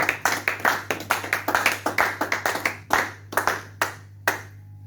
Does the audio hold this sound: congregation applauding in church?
yes